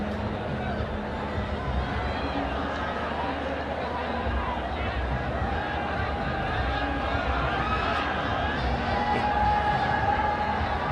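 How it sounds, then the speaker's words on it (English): Stadium crowd at a women's international football match between Nepal and Lebanon, a steady loud roar and babble of many voices filling the whole stretch, with commentary talk running over it. "Anxious crowd on the top of their lungs."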